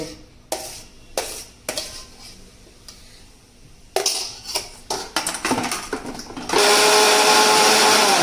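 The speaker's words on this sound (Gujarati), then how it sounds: "આપણે ડુંગળીને અચકચરી મિક્સરમાં ગ્રેવી કરી દેવાની" Clattering knocks and clinks of a jar being set up give way to a mixer grinder whirring loudly and steadily, coarsely blending onion into gravy for green peas sev usal.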